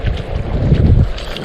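Wind gusting across open water around a kayak on a fishing trip, a steady, close rumbling buffet on the microphone with no talking.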